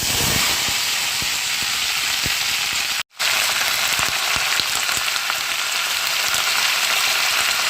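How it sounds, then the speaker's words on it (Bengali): Mixed vegetables such as cabbage, tomato and green chilli fry in hot oil with black cumin for a bhorta, giving a loud, steady sizzle with popping crackles and a brief cut in the middle. "এখানে আমি হাফ চামচ কালো জিরে দিয়ে দিচ্ছি এবারে সমস্ত সবজিগুলো এর মধ্যে"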